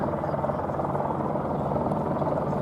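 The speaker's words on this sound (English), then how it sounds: "you can see the Apache's amazing hover performance" A Westland Apache attack helicopter hovers at the Duxford air show, its rotor and engine giving a loud, steady, throbbing roar that fills the whole stretch without a break.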